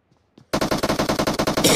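Rapid automatic gunfire in a battle royale video game, a loud steady burst of about a dozen evenly spaced shots after a short near-silent lead-in, ending in a brighter blast.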